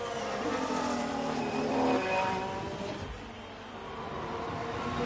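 Formula 1 race cars in F1 Manager 22 at the São Paulo circuit roar continuously with high-pitched engine whine, one car swelling close then fading as it passes, with no talk.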